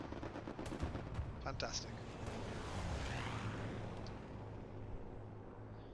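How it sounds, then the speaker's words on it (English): Aircraft strafing run in Hell Let Loose at Carentan Train Station: bursts of gunfire and heavy impacts rumble over a dense battlefield din, with a short spoken remark near the start. "Strafe run coming through"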